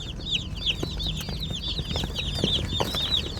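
Cornish cross chicks in a box peep constantly from close by, a dense chorus of rapid, overlapping high chirps with soft rustling beneath.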